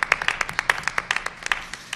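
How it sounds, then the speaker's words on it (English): A small room of people at a Board of Education meeting claps for a student team, producing a dense, close run of sharp, uneven hand claps that holds steady for a couple of seconds. "Let's give Team 75 and all of the students from Hillsborough as well as other districts a big round of applause"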